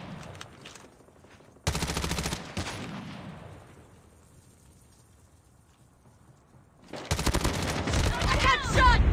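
Video game gunfire in a team deathmatch, with two loud, dense bursts of rapid shots separated by a quieter stretch of fading game noise, the second burst running to the end.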